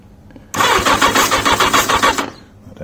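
Motorbike engine cranking with the fuel on prime, a loud rapid rhythmic churning that starts abruptly and runs for about two seconds without catching, then stops.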